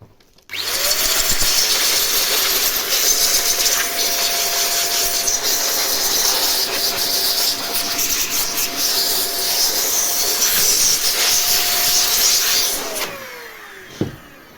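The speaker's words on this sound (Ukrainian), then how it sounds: "в процесі видування пилу з цих важкодоступних місць вилітають частки бруду" A loud, steady blast of compressed air hisses continuously for over ten seconds, blowing dust out of a Xiaomi Roborock robot vacuum, with a faint whine underneath, then cuts off with a brief clatter.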